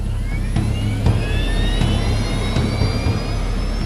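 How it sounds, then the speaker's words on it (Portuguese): Jet airliner engines spool up for takeoff in a dramatized TWA flight 800 scene, a loud, steady roar with a rising whine climbing throughout, heard alone without voices. "E puxo para a decolagem."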